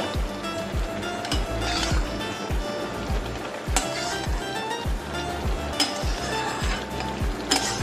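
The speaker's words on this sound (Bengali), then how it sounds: "এবার আমি চিংড়ি মাছ ভাজাটা এতে দিয়ে দিচ্ছি" Fried prawns stirred into a simmering ridge gourd curry in a pan, giving continuous close sizzling with rhythmic scraping strokes of the spoon against the pan.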